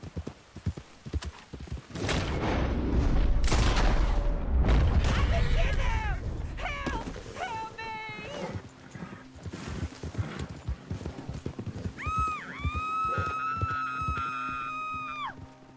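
Horse hooves clip-clop in the Red Dead Redemption 2 video game, a steady loud rhythm under game noise, with booms, a horse's whinny and a sustained synth tone near the end, and people talking over it.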